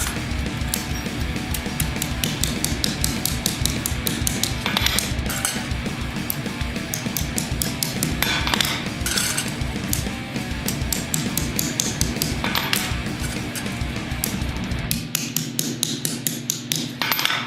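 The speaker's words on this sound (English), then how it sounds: "I find it's helpful to pull back on it this way and just give it some light tapping" A light hammer taps metal gauntlet finger scales to straighten them, a long run of rapid, evenly spaced metallic taps close by with occasional heavier strikes.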